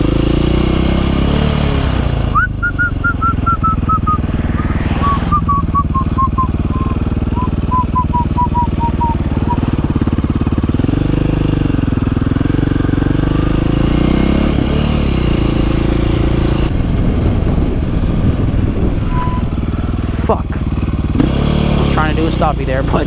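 Motorcycle engine droning loudly and steadily on a public road during a failed stoppie attempt, with a whining tone rising and falling early on and an undercurrent of wind and road noise.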